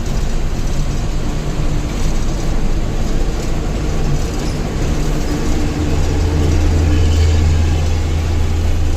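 A heavy multi-tyre lorry rolls past on the road with a loud, steady, continuous roar of engine and tyres that stays strong throughout and has a low hum underneath.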